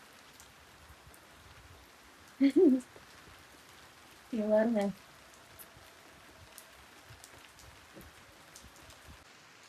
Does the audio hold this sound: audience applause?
no